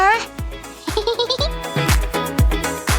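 Etawa goats at a livestock show bleat repeatedly in short, wavering calls of varying pitch, fairly close and overlapping one another.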